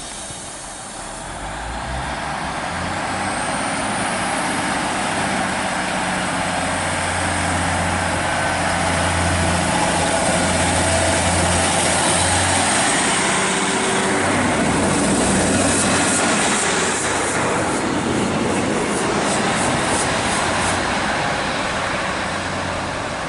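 An East Midlands passenger train pulls away from Loughborough station on the Midland Main Line, a steady low engine rumble and rail noise that swells and holds loud for over twenty seconds, with no voices.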